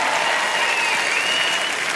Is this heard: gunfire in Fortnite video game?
no